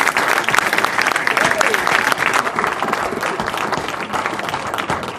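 Loud, dense audience applause for filmmaker Spike Lee at a GREY GOOSE Le Melon toast in New York City, steady and sustained throughout, with cheering voices mixed into the clapping.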